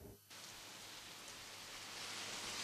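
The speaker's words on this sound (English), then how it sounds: "The rain is still falling." Steady rain falls in New Orleans after Hurricane Gustav, a dense, even hiss that swells in after a brief quieter moment and holds unbroken, moderately loud with no voices.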